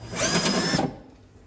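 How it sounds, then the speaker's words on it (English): A power drill bores into the thin inner sheet metal of a van door, a close, loud whining bite lasting under a second before it cuts off into quiet. "With drilling the inside of the door, this sheet metal is fairly thin, so you want to be gentle."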